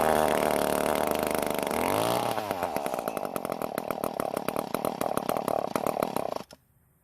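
A two-stroke Echo edger engine fires up with a loud, rough buzzing roar, runs unevenly for several seconds, then cuts out abruptly and stalls into near silence at the end.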